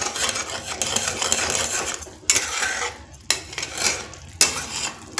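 Crushed peanuts being stirred into sugar syrup in a pan for peanut barfi, with continuous scraping and clinking of a spoon against the metal pan, interrupted by brief pauses.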